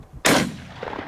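A single loud, close shotgun blast from a cheap $12 Walmart shotgun during informal trap shooting outdoors, a sharp crack followed by a decaying rumble and faint trailing sounds.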